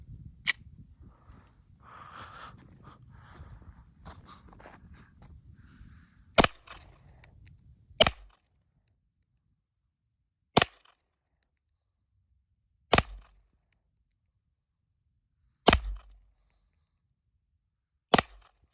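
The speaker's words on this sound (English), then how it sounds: "We'd be performing accuracy shots." Six sharp, loud gunshots ring out one at a time with long pauses between them during close-range accuracy practice at 15 feet, after a stretch of soft rustling at the start.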